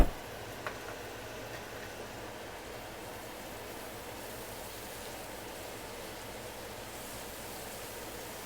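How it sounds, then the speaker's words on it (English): A kitchen exhaust fan drones as a faint, steady hiss of broadband noise that runs unchanged throughout, heard alone after a small knock at the start. "that kind of white noise drone you hear in the background is actually my exhaust fan"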